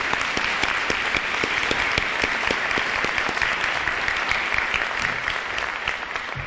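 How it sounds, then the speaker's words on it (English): Audience in a school auditorium at a National Honor Society induction ceremony gives a round of applause, loud, even, continuous clapping from many hands with no talk over it. "Please join me in giving a round of applause to thank Ms. Mallon and Ms. Herzog."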